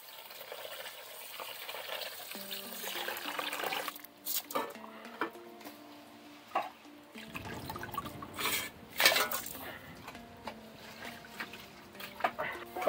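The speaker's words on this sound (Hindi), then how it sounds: "चलिए चावल धो लेता है।" Long biryani rice being washed in water in a rural kitchen, with soft sloshing, swirling and dripping sounds, intermittent splashes and clatter, fairly quiet with faint background tones.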